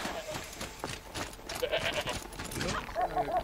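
A goat bleating in the video game Horizon Zero Dawn: The Frozen Wilds, a few short nasal bleats in the latter half over rustling game ambience and low background noise.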